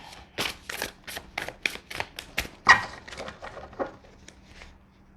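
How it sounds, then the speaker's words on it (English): Tarot cards being shuffled by hand, a run of quick papery riffles and snaps in an irregular rhythm, close and fairly crisp, with no one talking over them. "We're going to just shuffle these tarot cards just one more time"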